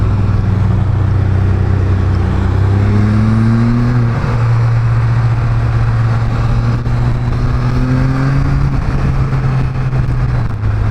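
A Can-Am Spyder F3 S three-wheeler cruises in third gear at about 60 km/h, its engine a loud, steady hum that rises gradually in pitch as it pulls with torque, with wind rush and no voices.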